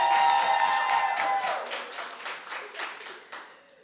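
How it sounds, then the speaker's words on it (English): An audience claps after a debate round between two Jamaican government agency teams, with dense applause that thins into scattered, fading claps. "let's give them one final round of applause"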